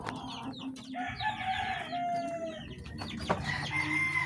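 One-month-old chicks in a dome-shaped coop cluck and chirp busily while feed is put out for them, with close, overlapping calls and a rooster-like crow rising over the flock.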